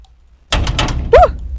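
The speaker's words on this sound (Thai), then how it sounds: "ประตูเปิดไปได้" A door opens in the horror video game Wrong Floor: a sudden loud thunk and rattling clatter, then a sharp creaking squeal, close and alone after near silence.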